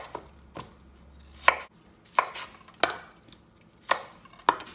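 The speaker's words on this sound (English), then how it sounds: "Just want to take a little more of that root end off." A knife trims the root end off cauliflower quarters on a cutting board, giving about seven sharp, close cuts at irregular intervals, clear against near silence.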